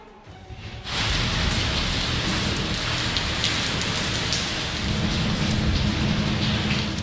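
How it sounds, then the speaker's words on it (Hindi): Heavy rain pours steadily during a monsoon downpour in Punjab, Pakistan, a dense continuous roar that swells sharply after the first second, with a low rumbling undertone of thunder beneath it and no voices. "मुख्तलिफ शहरों में बादल गरज बरस रहे हैं।"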